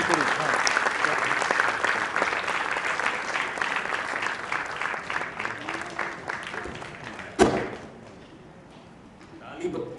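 An audience claps for the Unacademy team onstage at a student orientation event, a dense, steady patter of many hands that thins and fades after a sharp thump near the end, followed by near quiet.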